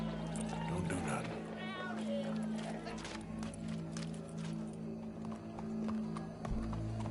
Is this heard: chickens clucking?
no